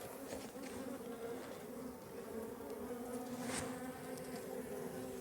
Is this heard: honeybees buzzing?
yes